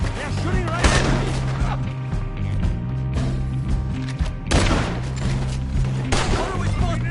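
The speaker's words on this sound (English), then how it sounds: "They're shooting right at me!" Repeated gunshots ring out in Red Dead Redemption 2, loud bursts of fire clustered near the start and middle, layered over a humming background and game sounds.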